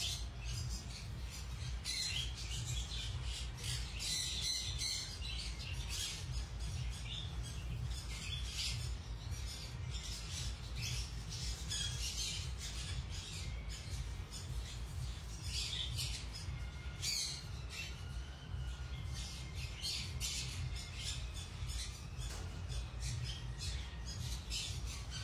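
A crowd of conure parrots in a breeding aviary squawks without pause, harsh overlapping shrieks and chirps forming a dense, loud chorus over a steady low hum throughout.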